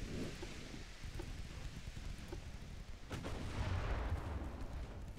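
Naval guns boom in a dreadnought battle from Ultimate Admiral: Dreadnoughts, faint distant thuds over a steady rain-like rumble, with one sharper report midway followed by a heavier rolling swell.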